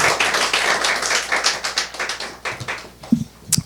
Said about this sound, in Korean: 잘했다고 박수 한번